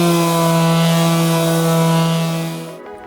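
A power sander works a wooden top for a MAIDESITE electric standing desk, giving a loud, steady droning whine that winds down and stops near the end.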